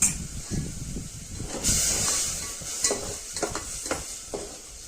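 A pot of mutton curry simmers with added water, sizzling and bubbling, with a few stirring scrapes and soft clinks over the steady hiss.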